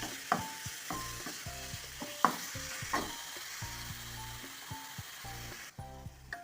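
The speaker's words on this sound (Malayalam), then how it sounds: "ഇനി നമുക്ക് ഒരു അര കപ്പ് ചിരകിയ തേങ്ങ കൂടെ ചേർത്ത് കൊടുക്കാം എല്ലാം കൂടെ നല്ലവണ്ണം ഒന്ന് മിക്സ് ചെയ്തെടുക്കാം" Mashed banana, jaggery and grated coconut are mixed in a pan with scraping, stirring clicks and a faint sizzle, close and steady with no talk.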